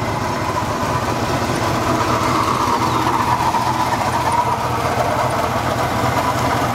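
A Cadillac DeVille convertible with its original engine idles steadily, a continuous low rumble with even mechanical hum, close and fairly loud throughout with no talking.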